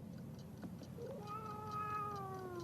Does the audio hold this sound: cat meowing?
yes